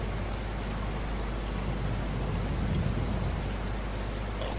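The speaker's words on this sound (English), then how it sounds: "rain is only here for an hour" Steady rainfall in Farming Simulator 22, a dense unbroken hiss of rain with a low rumbling undertone, constant and fairly loud across the whole stretch with no voices.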